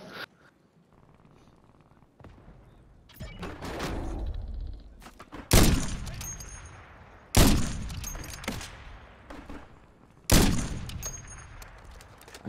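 Gunfire in Call of Duty lands as three sharp, loud bursts spaced a couple of seconds apart, each decaying into ringing noise, following quieter in-game clatter near the start.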